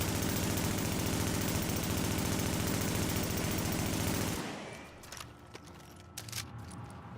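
Sustained automatic gunfire in Tom Clancy's The Division, a loud dense rattle of rapid shots lasting about four seconds, then cutting off to quieter background game sounds.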